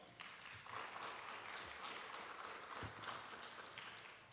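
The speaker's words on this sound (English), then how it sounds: "please give them another round of applause" Steady applause from a beauty pageant audience fills the space, a dense wash of clapping that holds evenly for several seconds without any voices.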